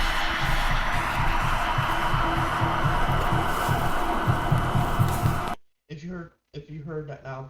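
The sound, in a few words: air conditioner switching on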